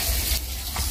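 Fish fries in a pan with a steady, close sizzling hiss, brief and unbroken with no voices.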